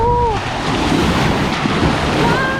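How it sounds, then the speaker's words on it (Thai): Sea waves wash steadily onto a beach at Krabi during an island-hopping trip to Ko Phai, with a continuous surf roar and wind buffeting the microphone. "นี่ฟังเสียงทะเลนะ"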